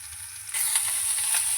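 Pointed gourd (potol) dropped into hot oil in a pan, a quiet start that bursts into a loud, steady sizzle and keeps frying close by.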